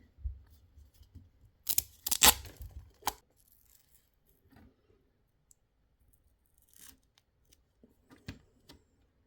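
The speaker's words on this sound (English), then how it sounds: "And now we put some tape around that." Tape is pulled off a roll and torn while fitting lights into a display cabinet, producing a cluster of sharp, close ripping bursts, then quieter handling noises.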